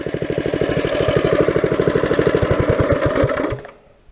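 A minibike engine keeps running with a rapid, even putter, close and loud for about three and a half seconds before it cuts out and fades.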